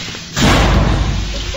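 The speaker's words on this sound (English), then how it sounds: "I hear some doors rumbling in the background." A heavy door slams with a loud, sudden thud inside the SCP Containment Breach video game, followed by a low rumbling boom that lingers for over a second, with no talking.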